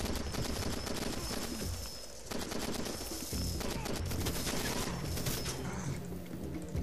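Far Cry 2 gameplay gunfire crackles in rapid bursts of shots with sharp pops and gaps between volleys, fairly loud and close, while a grenade goes off amid the shooting.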